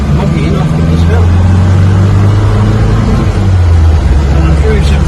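A 1966 Morris 1000 convertible's engine pulls steadily up a hill, a loud, close, sustained drone that holds its pitch under load with little variation.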